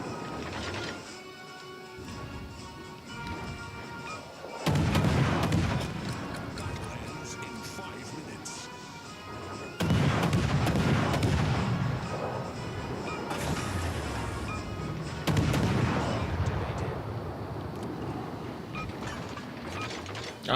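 Heavy naval gun volleys boom in World of Warships: Legends, several loud broadside salvos arriving roughly every five seconds amid rumbling ship and mechanical game sounds, with talk over them.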